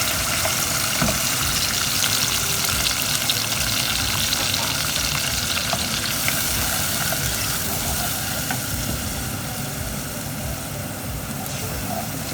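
Scotch bonnet, onion, ginger, garlic and thyme fry in a pan with a steady, loud, dense sizzle that holds unbroken throughout.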